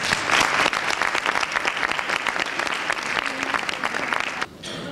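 An audience applauds in a hall at a choral concert, a steady dense clapping that fills the room for several seconds before dropping off abruptly near the end.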